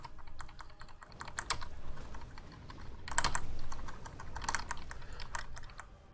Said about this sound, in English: Some keyboards sound fun to type on.